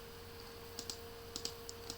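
Fingers type a command on a computer keyboard, a few quiet scattered key clicks in short clusters over a faint steady hum.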